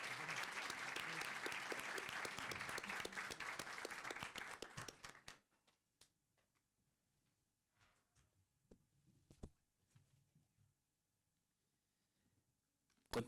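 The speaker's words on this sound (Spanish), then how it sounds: "Un aplauso, por favor." Audience applause at a seminar: dense clapping for about five seconds that stops abruptly, followed by near silence with faint scattered rustles and a few soft knocks.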